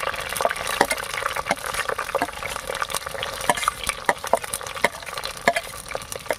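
Curry leaves, green chillies and onions sizzle in hot oil in a pan while being stirred, with steady frying crackle and repeated sharp scraping clicks of the spoon, close and fairly loud, with no talking.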